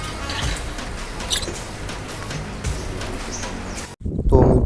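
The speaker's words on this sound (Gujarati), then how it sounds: "પીળા અને કાળા અને એવા કંઈક પોપટ." Parrots calling around a cow shelter and garden, their chirps and squawks scattered through dense background noise with people talking over them; a louder burst closes the stretch.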